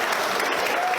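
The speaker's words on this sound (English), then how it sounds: "Let's give it a big round of applause for the staff here." Wedding guests applaud the venue staff, giving a brief, dense burst of clapping from a room full of people.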